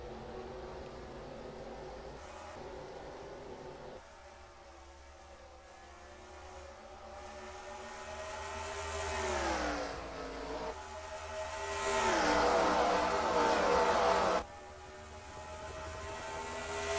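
Race cars at Watkins Glen in an Xbox 360 racing game, engines whining and revving through gear changes, rising and falling in pitch as cars pass, louder bursts mid-clip before a sudden drop, no talking.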